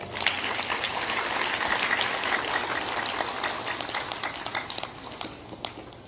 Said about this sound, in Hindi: बजा सकते हो ताली, कोई बात नहीं।